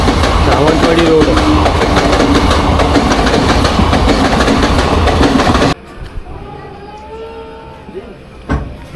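A passenger train sets off and runs, a loud steady rumble and rattle heard from on board that drops away abruptly into quieter cabin sound with faint murmurs.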